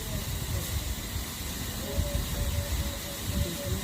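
Water poured into a hot pan of seasoning for puti fish paturi sets off a steady, close hiss and sizzle that holds for a few seconds with faint bubbling underneath.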